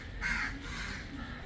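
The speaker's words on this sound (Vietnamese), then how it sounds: "Quá trời những con quạ." Crows cawing at Humayun's Tomb in Delhi, India, a few harsh caws over a steady outdoor murmur, moderately close and fairly loud, with no talk.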